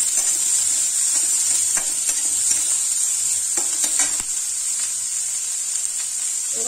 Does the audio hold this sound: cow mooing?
no